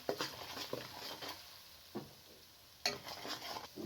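Whole spices, garlic and ginger frying in a pan for an egg and potato qorma, a soft, fairly faint sizzle with a few short stirring scrapes.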